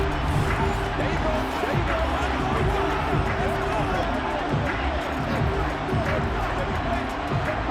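A home crowd in the Madden NFL 23 football video game gives off a steady, dense rumble of cheering and babble at moderate distance, running continuously under a commentator's voice.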